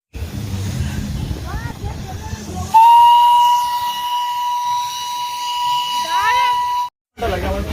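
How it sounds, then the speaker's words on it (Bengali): Darjeeling toy train steam whistle blowing as the train departs, a loud, sustained shrill tone lasting several seconds after people talk nearby, then a brief cutoff and renewed crowd noise. "ওই যে ট্রেন ছাড়বে, ট্রেন ছাড়বে"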